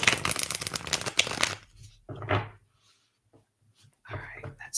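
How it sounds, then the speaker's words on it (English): A tarot deck gets a close, crisp rifle shuffle: a dense burst of riffling cards lasting about a second, then quieter card handling with soft sounds and pauses. "rifle shuffle one more time."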